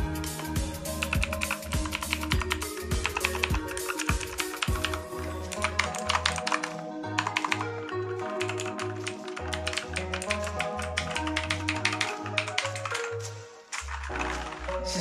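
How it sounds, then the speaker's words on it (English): Rapid, clacky typing on a Redragon Kumara RGB mechanical gaming keyboard, dense bursts of keystrokes close up with brief pauses between runs. "I give you the Red Dragon Kumara Gaming Keyboard RGB. Sound test"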